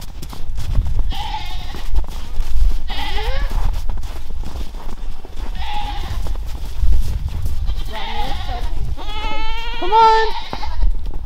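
Breeding goats bleat in several separate bursts, loud and close, with a longer run of wavering cries near the end over a rumbling, windy background and a person briefly talking.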